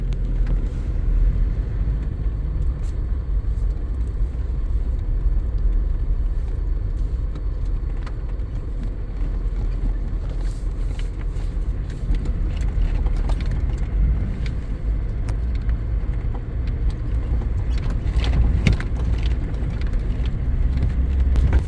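A car rolls along a cute little road toward the Forestry Commission campsite in Zimbabwe's Mount Selinda area, giving a steady close engine and road rumble with scattered rattles and clatter and no talk.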